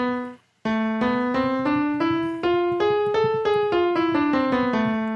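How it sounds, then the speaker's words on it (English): Single piano notes step upward one by one and then back down, an evenly paced harmonic minor scale played alone and clearly. "that was the harmonic minor scale"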